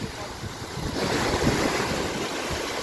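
Mediterranean Sea waves off Cyprus, a soft, steady wash of surf mixed with wind buffeting the microphone, fairly faint and continuous.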